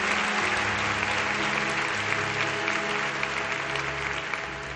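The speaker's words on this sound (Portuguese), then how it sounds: "Vamos aplaudi-la mais uma vez?" Sustained applause from a church congregation during a Portuguese-language service, many hands clapping in a dense even roar for nearly five seconds, fairly loud and alone with no talk, fading slightly at the end.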